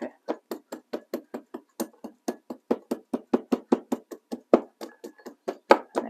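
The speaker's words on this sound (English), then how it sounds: "we're going to start pounding them" Walnuts in a bag pounded with a rolling pin while cooking apricot and walnut stuffed chicken: a steady run of about thirty sharp, close knocks, evenly paced and growing slightly louder, with no talking.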